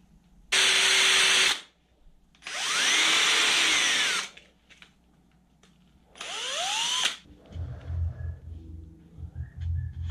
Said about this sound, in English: and drilled a hole into the plug